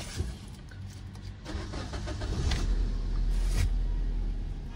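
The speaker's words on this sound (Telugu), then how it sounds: "ఒకసారి బండి స్టార్ట్ చేసి చూద్దాం" A used car driven 58,230 km, with about 2.5 km of that in Delhi, starts up close by: a short crank, then the engine catches and settles into a steady, loud low idle with no talking over it.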